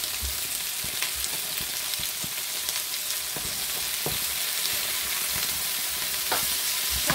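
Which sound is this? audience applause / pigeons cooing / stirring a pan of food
stirring a pan of food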